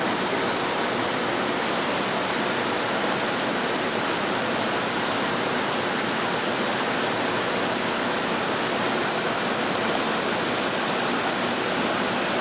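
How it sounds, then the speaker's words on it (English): Water gushes from a leak in a sandstone wall held by bolts, a loud, steady, unbroken rush filling the whole stretch with no voices. "It's a gusher of water."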